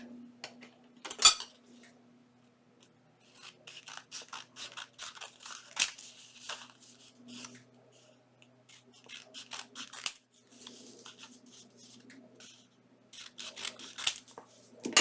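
Scissors trim paper for a junk journal in a series of sparse, crisp snips and clicks, each separated by quiet pauses, over a faint steady low hum.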